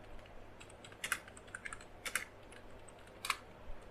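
A name is typed on a computer keyboard, a handful of soft, close key clicks in small irregular bursts over faint room hiss.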